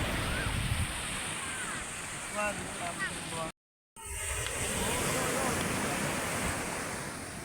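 Steady roar of ocean surf with wind buffeting the microphone, a brief dropout midway; faint voices sit low beneath the crashing waves.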